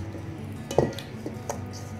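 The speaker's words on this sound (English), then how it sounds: "I'm gonna go ahead and mix this around" Seasoned beef shanks and short ribs are tossed together for a stew, giving a couple of soft, wet squishing knocks against a quiet background with no talking.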